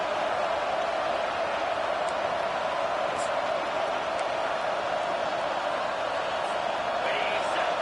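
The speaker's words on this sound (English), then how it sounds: "Decibels rising as the crowd gets behind this defense on 3rd down" Stadium crowd at a college football game with Oregon on the field, a steady loud roar building on a third-down defensive stand, broad and sustained with a play-by-play voice over it.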